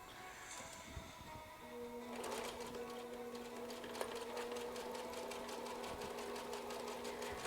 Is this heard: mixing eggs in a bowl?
no